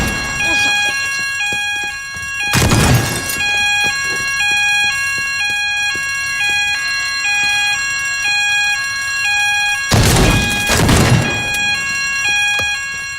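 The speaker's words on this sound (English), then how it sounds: "This is the fire alarm." A fire alarm blares through a shopping center in the video game Teardown, a loud repeating electronic beep pattern with two bursts of sweeping siren-like noise, continuous and steady throughout.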